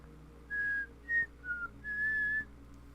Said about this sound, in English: If you know grass whistle, you understand.